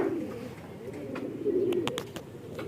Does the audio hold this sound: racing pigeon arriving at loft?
yes